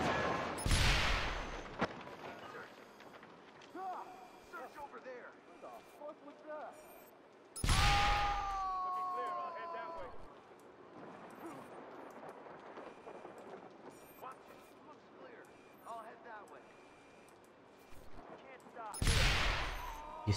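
Bursts of gunfire from the video game Watch Dogs, with loud blasts near the start, middle and end over a quieter game soundscape of softer pops and rumbles.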